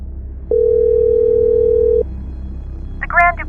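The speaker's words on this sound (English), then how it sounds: "The phone rang twice before it was answered by a cold," A telephone line gives one steady ring tone of about a second and a half, loud and clean, followed by a short burst of higher, warbling tones near the end.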